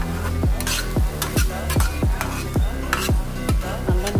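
Fish eggs, mixed like an omelette, fry in a pan under a steady sizzle, punctuated by regular, evenly spaced scraping strokes of a spatula about twice a second.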